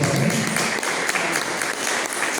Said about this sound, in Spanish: ¿Cuántos le dan un aplauso al Señor en este tiempo?